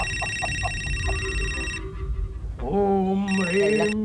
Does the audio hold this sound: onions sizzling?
no